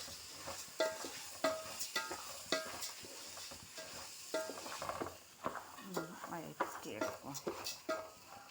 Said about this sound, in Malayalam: വെളിച്ചെണ്ണയിൽ അരി വഴറ്റിയെടുക്കുക.